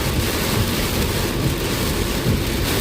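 Heavy rain pounds steadily on a car during a storm drive, a dense, loud, continuous hiss and drumming with low rumbling beneath, constant throughout and without speech.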